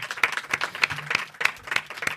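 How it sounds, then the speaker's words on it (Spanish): Small audience clapping for Jorge at a podcast-industry talk, a brief patter of a few people's hands, close and moderately loud, uneven in rhythm. "un aplauso para Jorge"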